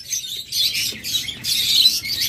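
Green-cheeked conures, a pair of double red factor birds kept for sale, give bursts of shrill, raspy chirping calls in quick repeated phrases, close and fairly loud with brief gaps between.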